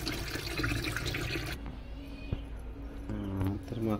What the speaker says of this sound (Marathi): तर चला माकली आता मस्तपैकी धुवून घेऊ